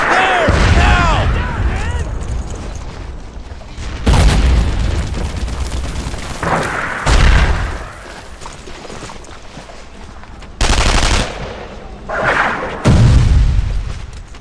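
Gunfire and heavy booms ring out in a World War II shooter, Brothers in Arms: Earned in Blood, with loud blasts recurring through the clip over a dense battle din as voices shout over them.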